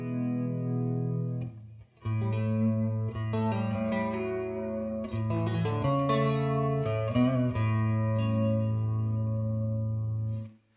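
Electric guitar through a Boss Katana amp on its crunch setting, chords and short licks ringing out with gritty distortion and a touch of reverb, no voices.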